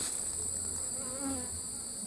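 Honey bees hum steadily around an opened hive during an inspection, a dense, continuous buzz filling the whole moment at close range, with no voices.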